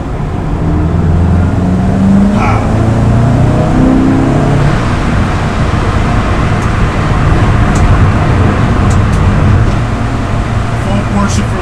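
Dodge Viper driving a lap of the Nürburgring Nordschleife, a steady loud engine drone and road roar filling the whole stretch with no letup, heard from inside the car.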